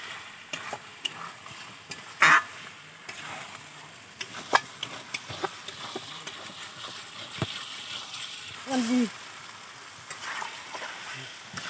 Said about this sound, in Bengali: এই চিকেনটা দিয়ে ভালো করে কষাবে।